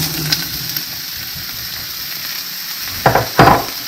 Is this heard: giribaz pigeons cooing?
no